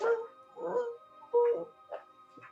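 A voice imitates the whimpering of an injured, limping, bleeding animal in a tabletop fantasy role-playing session, giving five short, plaintive whines and yips spaced across the stretch, close and clear.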